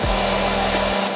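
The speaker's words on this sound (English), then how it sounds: "Turn on the spindle. The spindle is on" A CNC engraving machine's spindle whirs steadily at close range with a droning hum, then the low rumble cuts off near the end, leaving a thin high whine.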